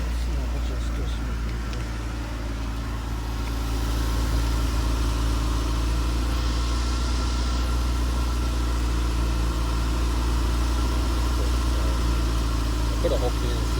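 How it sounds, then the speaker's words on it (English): 2001 Saturn SC2 engine stuck at a high idle while in neutral, a steady low droning hum with a constant pitch that runs unbroken for the whole stretch. "I still got a really high idle"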